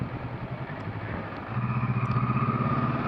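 A Honda CL500 motorcycle rides along, its engine droning steadily up close with a low throbbing pulse that grows louder and rougher about halfway through as the revs rise.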